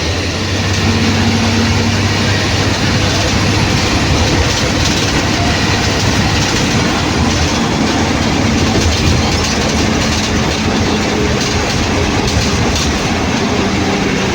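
A metro train rumbles past steadily, a continuous loud clatter of wheels on rails with low engine drone throughout, no voices.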